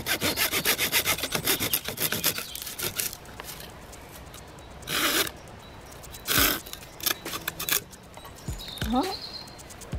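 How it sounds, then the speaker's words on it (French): A dry Japanese knotweed stem is cut by hand saw between two nodes, giving rapid rasping strokes that slow into a few separate, louder scrapes near the end, close up. "On va couper à la scie un bout à peu près de cette longueur là entre 2 nœuds."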